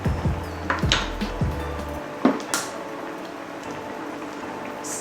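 Stirring prawn tom yum soup in a pot brings a few clinks and knocks of a utensil against the pot, then a soft bubbling simmer in the background.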